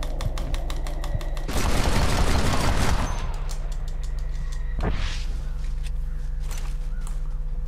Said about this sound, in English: So what we're gonna do is just pop a few caps into these crows.